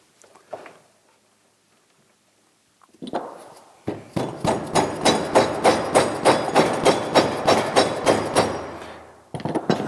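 Repeated hammer taps on metal while restoring a 1946 Wilton Bullet vise, a steady run of about fifteen loud, evenly spaced strikes after a few isolated knocks, close and clear with no talk.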